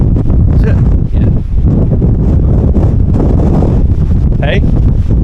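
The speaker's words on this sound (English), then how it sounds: "It's windy though, isn't it?" Strong wind on Dartmoor moorland buffets the microphone with a loud, continuous roaring rumble, gusting throughout, while people talk faintly beneath it.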